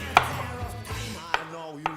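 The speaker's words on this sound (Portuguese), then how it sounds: "Vou picar ele na mesma medida do atum" A knife chops cucumber into small cubes on a board for tuna tartare, making three crisp, distinct cuts that are spaced irregularly and heard up close with no talking.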